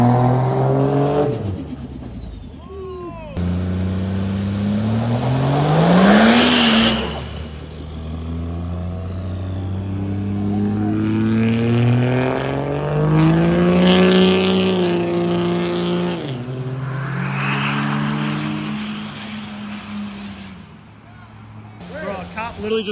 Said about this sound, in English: nothing better than waking up and hearing the sound of a Cummins turbo diesel